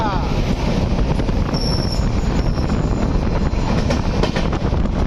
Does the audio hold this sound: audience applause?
no